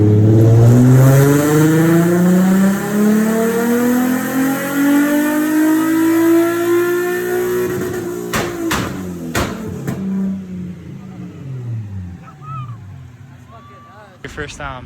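Close, very loud revving of a gutted Infiniti G35 on a dyno, engine pitch sweeping up steadily for eight seconds, then abruptly cutting off with pops and crackles as it winds down, shouting voices following.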